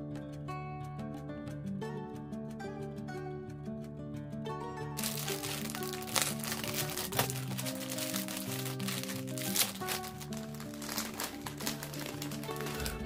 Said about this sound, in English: A single plastic bag holds all the sprues.